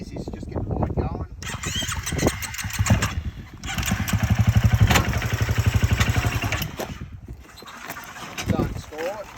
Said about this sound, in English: But I find the easiest is just get the bike going.